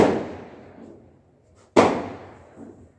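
Firecrackers set off at a nearby wedding give two sharp, loud bangs a little under two seconds apart, each trailing off in a decaying echo, with no talking.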